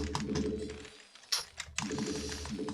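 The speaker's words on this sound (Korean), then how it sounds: "기계식 키보드" Brisk clatter of mechanical keyboard keys, dense and close, with a few sharper louder key strikes in the middle and a brief lull before typing resumes.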